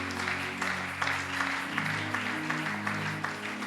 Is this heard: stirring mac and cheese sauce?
no